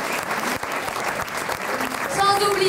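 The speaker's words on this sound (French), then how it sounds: "Alors, Tanguy de Temetan, applaudissez-les fort." Audience applause at a slam poetry show, a full crowd clapping steadily under a speaker's voice, swelling slightly toward the end as music tones enter.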